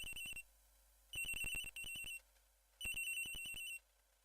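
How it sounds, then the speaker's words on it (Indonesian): A telephone rings in the Ace Attorney video game on the 3DS. Three electronic bursts of bright trilling come with short pauses between them, with no one talking. "Telepon guys, angkat guys,"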